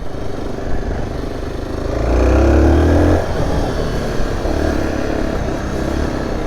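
A Zontes R1 310 motorcycle engine drones steadily, swells into a strong, buzzy surge of acceleration for about a second, then settles back to a steady hum.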